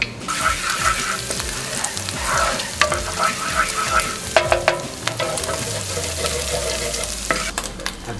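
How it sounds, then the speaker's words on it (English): Ginger and garlic sautéed in coconut fat, a close crackling sizzle with stirring scrapes and clicks of a utensil against the pan, a low rumble rising near the end, no speech. "the first thing I want to do is kind of saute my aromatics, in this case the ginger and the garlic"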